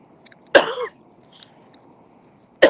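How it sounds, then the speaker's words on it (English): A single harsh morning cough from a retired man out on a walk, loud and close, followed by quiet and the start of a second cough at the end. "Got a little cough this morning."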